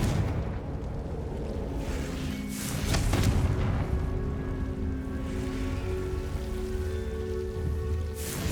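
A Confringo fire spell blasts in Hogwarts Legacy, a broad booming burst around three seconds that swells out of a constant crackling, rain-like background rumble and lingers briefly.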